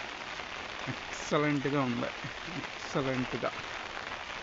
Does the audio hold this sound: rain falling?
yes